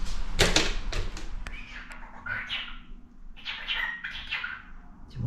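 A pet parakeet indoors gives a run of sharp chirps and squawky calls, close and bright, with short pauses between bursts and no talking.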